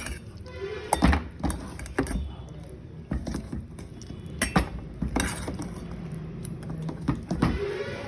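Ragi rava dosa batter being stirred by hand in a bowl, with close, irregular clinks and soft thuds of a spoon or hand against the vessel repeating through the whole stretch.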